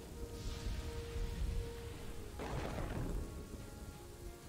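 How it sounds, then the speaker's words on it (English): Rain falls steadily in the Kingdoms and Castles strategy game, with a low rumble of thunder building and a sharp crackling burst of thunder partway through, all continuous and fairly loud with no talking. "Glad it's raining."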